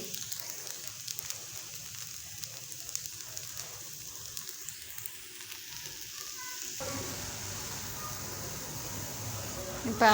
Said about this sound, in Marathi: आपण खालची बाजू पण दोन तीन सेकंद मस्तपैकी खरपूस तयार करून घेऊ